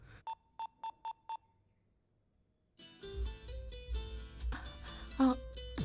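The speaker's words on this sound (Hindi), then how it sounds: "ओ फोन, रुको मैं कॉल करता हूँ।" A phone dialing a call: five short, evenly spaced electronic beeps like keypad tones, then a pause before a fuller burst of sound with music-like tones.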